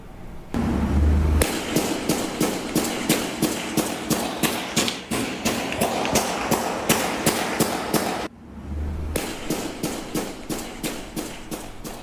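Rapid gunfire from a CVS store near Emory University in Atlanta cracks out in a long, steady volley of sharp, evenly spaced shots, pausing briefly before another burst resumes, loud and somewhat distant.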